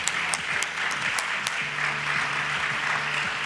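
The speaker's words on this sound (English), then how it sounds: "I'm going to give us an opportunity to applaud that moment." Audience applause at the Invest Jamaica 2022 business conference, a steady wash of many hands clapping in a large room, with a low voice murmuring faintly beneath it.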